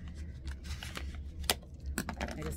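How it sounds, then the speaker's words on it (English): A few crisp snips and rustles close by, with two sharp cuts standing out near the end, as scissors slice through tape on an envelope. "I'm using my scissors to untape the envelope here."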